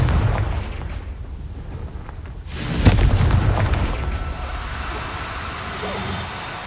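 A Confringo blast spell explodes in the Hogwarts Legacy video game, a single loud boom around the midpoint over a dense game soundscape, with a rumbling tail that fades into steady background noise.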